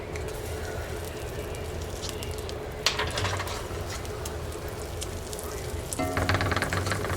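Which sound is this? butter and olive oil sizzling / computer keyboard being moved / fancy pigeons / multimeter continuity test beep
butter and olive oil sizzling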